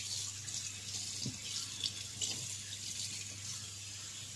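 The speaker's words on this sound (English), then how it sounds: "There's no way this water is hot, David." A tap runs steadily into a sink during a child's hair wash, a soft, even rush of water heard fairly close with faint splashes and no talking.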